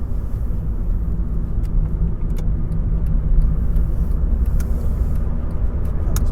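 A car engine runs steadily as the driver brakes, eases the clutch and gets back on the gas at a roundabout, a constant close rumble with no clear surge, heard alone.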